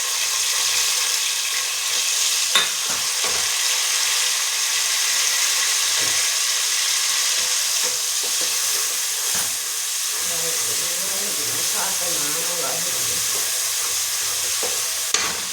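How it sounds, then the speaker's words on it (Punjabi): Cumin, garlic, onion and green chili fry in hot oil for a carrot and potato curry, a steady close sizzle with occasional stirring scrapes and clinks throughout, no talking. "ਤੇਲ ਗਰਮ ਹੋ ਗਿਆ ਜੀਰਾ ਦਿੱਤਾ ਪਾ ਹੁਣ ਆਪਾਂ ਕਰ ਲਸਣ ਪਿਆਜ਼ ਹਰੀ ਮਿਰਚ"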